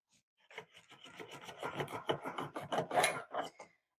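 A knife saws through a loaf of crusty peasant bread held snug in a slicing guide, giving a raspy, rhythmic scraping of repeated strokes that builds in loudness before stopping.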